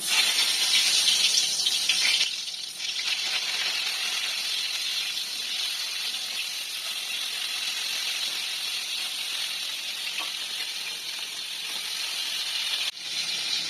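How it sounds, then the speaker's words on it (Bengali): Steady, loud sizzling hiss of pointed gourd frying in hot oil, continuous throughout with a brief louder burst at the start. "এবারে আমি কড়াইয়ে তেল দিয়ে দিলাম তেল গরম হয়ে গেছে এবারে আমি পটলগুলোকে ছেড়ে দিচ্ছি"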